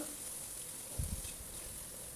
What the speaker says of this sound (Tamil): எண்ணெயில் போட்டு கொஞ்சம் நல்லா இந்த மாதிரி பரட்டி விட்டுறலாம்.